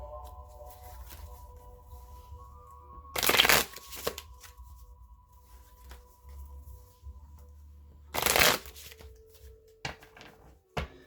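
Gilded Tarot cards being shuffled, two short loud riffling bursts several seconds apart, close up, with quiet handling between them.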